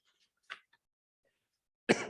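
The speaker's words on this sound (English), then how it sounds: "And cough." A single loud, harsh cough bursts out near the end after a stretch of near silence, with a faint short sound earlier.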